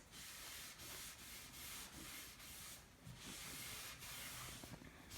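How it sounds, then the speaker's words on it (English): An old t-shirt rubs excess glaze off a painted furniture surface in a series of soft, close, brushing wipes, each swish separated by brief pauses, with no talking. "I'm just gonna wipe back the excess"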